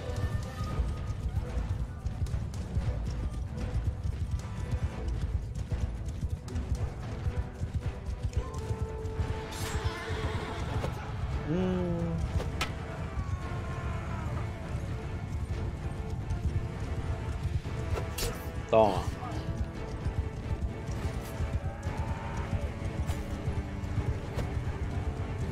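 Horses galloping in the video game Mount & Blade 2: Bannerlord, a continuous rumble of hoofbeats with clashes and shouts of battle mixed in, fairly busy and moderately loud throughout.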